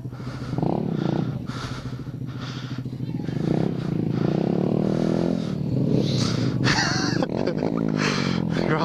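A Honda Grom motorcycle rides off road through wet mud, its engine droning loudly and continuously close by, with revs rising and falling.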